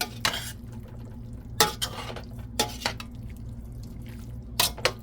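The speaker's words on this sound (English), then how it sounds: "I'm gonna stir it to mix it up the seasoning." Seasoned marinated chicken is stirred in a pot, giving repeated wet scraping strokes and clinks of a utensil against the pot at an uneven rhythm over a low steady hum, close and fairly quiet.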